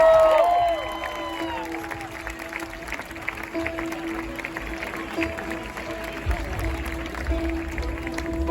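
Concert crowd applauding and cheering during a performance, a dense sustained roar of clapping and whoops under lingering music tones that fade early on.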